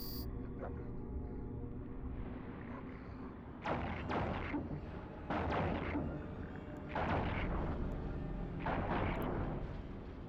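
Ship weapons in the EVE Online space game fire at an enemy vessel in a run of heavy, booming volleys, four or five loud bursts spaced a second or two apart over a steady low rumble.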